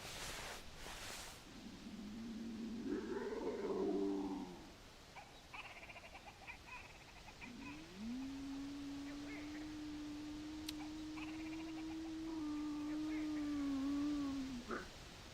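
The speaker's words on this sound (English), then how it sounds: "You hear that bird?" A bird calls in theHunter Classic with a few warbling notes, then a long steady whistled tone that holds for several seconds. It is set against a faint outdoor ambience, and a short rising chirp follows.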